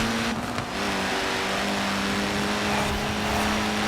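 A Nissan Pulsar Group A car in Forza Horizon 4 holds a loud, steady engine drone at speed, with faint popping in the exhaust and no talking.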